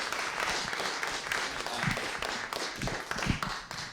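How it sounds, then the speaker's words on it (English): A live storytelling show audience applauds a storyteller with a dense, steady wash of clapping that carries on throughout, fairly full and close, with a few sharper individual claps poking out near the end. "Round of applause for the other storytellers who were just amazing."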